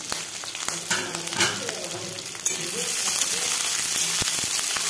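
Eggplant pieces fry in a pan after green chilies, stirred with a few scraping knocks, then the sizzle jumps to a loud, dense, continuous hiss close by.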